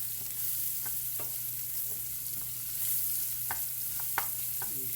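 Carrots and onion pieces stir-fry in a wok with a constant close sizzle, a low steady hum beneath, and a few scattered scrapes and taps of the utensil, no one speaking.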